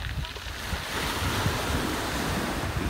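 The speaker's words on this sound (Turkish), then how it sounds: "dalgalarımız epeyce var." Sea waves wash onto Kocaçalış beach in Fethiye on a windy, humid day, a loud continuous surf roar with wind buffeting the microphone up close.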